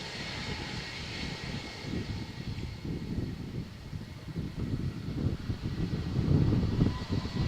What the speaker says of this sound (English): So let's see if this Vueling flight, they love rolling takeoffs.